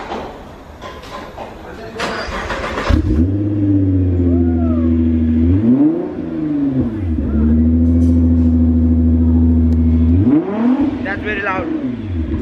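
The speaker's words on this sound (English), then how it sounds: "let's go start it. Apparently it's got an exhaust system, so I don't know. I think it should be pretty loud." A Nissan GT-R R35 with an aftermarket exhaust fires up with a loud starter burst, then settles into a deep rumbling idle, rising twice into strong revs; voices talk faintly underneath.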